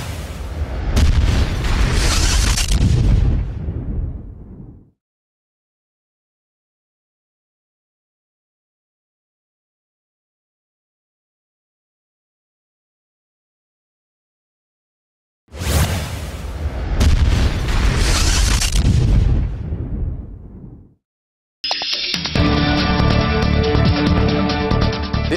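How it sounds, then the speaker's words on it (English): Two long, loud explosions roar out as rumbling booms, each about five seconds, separated by silence; a brief tonal, buzzing sound follows the second blast. "Gunshots have been heard, explosions have been heard."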